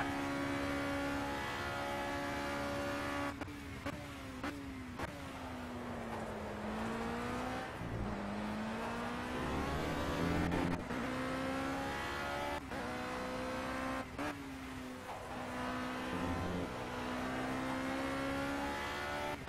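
Open-wheel race car engines in the racing game Project CARS, a loud continuous high-revving whine that climbs and drops with each gear shift and corner, with no talking over it.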